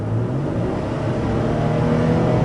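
A 2022 Nissan Frontier with the VQ38DD V6 and automatic gearbox accelerates hard under full throttle, its engine droning and climbing steadily in pitch from inside the cab, close and loud, with no voices.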